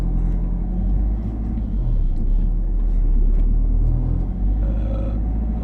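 A car sets off in first gear during a driving lesson, its low engine rumble steady and close from inside the cabin, with no clear rise in revs.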